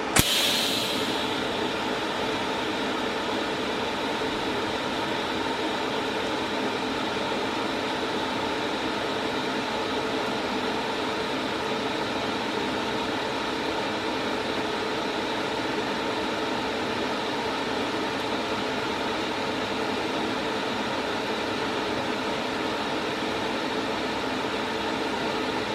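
TIG welding thin sheet steel car bodywork with filler rod added gives a steady buzzing hiss that starts with a sharp ignition crackle and holds evenly throughout, with no speech.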